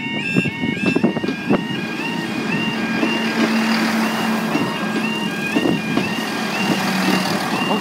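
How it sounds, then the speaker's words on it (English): At Fairbourne Station level crossing in Gwynedd, repeating electronic alarm tones of the crossing sound steadily in an outdoor setting, with a passing train's rumble and intermittent thumps beneath. "So you hear what this alarm sounds like then."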